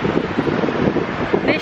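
Wind blowing by the sea on Mallorca, a constant rough rushing roar buffeting the microphone, with voices faintly mixed in.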